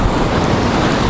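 Storm surf and gusting wind roar loudly and continuously on the seashore at Adler, Sochi, a dense, close wash of crashing water and buffeting wind.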